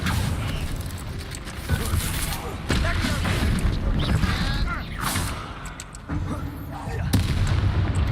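A Confringo fire spell explodes during video game combat, a series of deep booming blasts and rumbling bursts over several seconds, with someone talking throughout.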